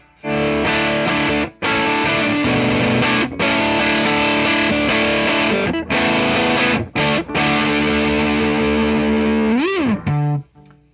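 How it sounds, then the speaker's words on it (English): An electric guitar played through a Caline CP-27 Sandstorm distortion pedal gives crunchy, heavily distorted rhythmic chords and riffs with brief pauses and a bending note near the end, loud and alone. "that is the Caline Sandstorm. Very crunchy, great rhythmic tones in there."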